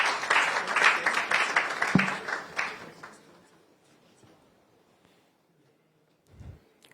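Applause from a quiz competition audience at the NSMQ 2023 national championship launch, greeting a Prudential Life Insurance representative, starts loud and dense, then fades away over about three seconds into near silence.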